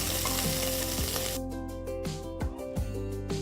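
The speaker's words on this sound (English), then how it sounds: "Next add 2 large onions, thinly sliced" Thinly sliced onions frying in ghee with whole spices and cashew nuts, a steady close sizzle under music, with a few stirring scrapes near the end.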